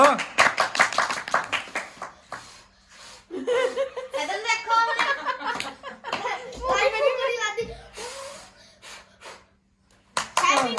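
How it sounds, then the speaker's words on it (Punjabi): Children and family at a home birthday cake cutting clap in a brief burst near the start, followed by children's chatter, chuckles and laughter close by. "ਚਲੋ ਮਾਰੋ ਤਾੜੀ"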